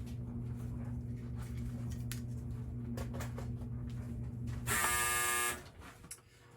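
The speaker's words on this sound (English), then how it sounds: "That was the dryer." A clothes dryer buzzer sounds once in a room where a guitar effects pedal is being assembled, a loud steady tone lasting about a second over low electrical hum.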